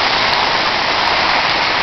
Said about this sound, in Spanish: Llueve bastante fuerte, los vientos,